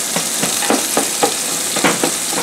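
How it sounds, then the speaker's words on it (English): Beef frying in oil in a pan over medium-low heat for chili, a steady close sizzle with regular stirring scrapes recurring about twice a second. "you need to put oil into your meat when you're frying it"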